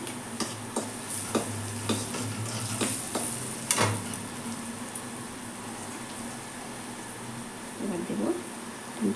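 Green chilies hit hot oil in a pan while cooking kochu shak with hilsa fish head, giving a steady sizzle with scattered sharp crackles and spatula scrapes, fairly close and moderate in level.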